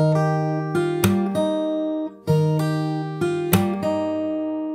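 Fingerstyle acoustic guitar plays a repeated phrase from a song twice in a row, plucked notes climbing to a bright strummed chord each time, ringing and sustained, close and unaccompanied with no talking.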